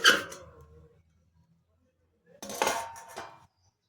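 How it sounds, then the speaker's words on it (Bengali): A metal lid comes off a pot of home-baked biscuits: a sharp clank and scrape, a quiet pause, then a second rattling clatter of metal on metal, close and clear with no talk. "এখন আমি ঢাকনাটা তুলে দেখব"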